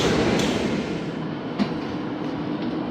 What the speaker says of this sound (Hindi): बावलपुर रेलवे स्टेशन से ट्रेन रवाना हो रही है